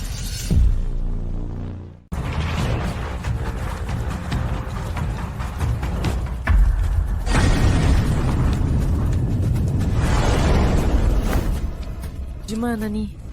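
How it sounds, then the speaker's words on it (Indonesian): Loud, sustained bomb explosions roar through a building in a dramatic action scene, a dense continuous rumble with surging blasts and debris crashing throughout. "Bom di mana-mana"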